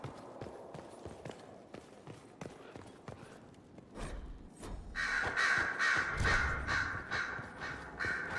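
Crows caw repeatedly around the mountain fortress of Skyhold in Dragon Age Inquisition, harsh calls rising over scattered footsteps and clopping hooves, growing louder and denser toward the end.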